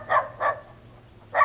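Dogs bark near a roadside with bamboo in Taiwan, three sharp barks, two in quick succession and then a third after a short gap, fairly close and clear over a low hum.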